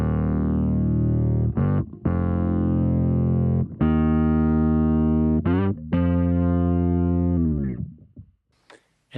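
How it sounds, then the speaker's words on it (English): Fuzzed, synth-like bass tone from a Fractal Audio effects preset, squared and sharp-edged rather than a clean sine; loud sustained notes in several phrases with short gaps, fading out at the end, no talking. "changing our tone from the standard organic sine wave into something a little bit more right angle-y and sharp edges to get us more of that synth sound"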